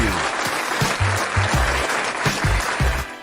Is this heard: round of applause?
yes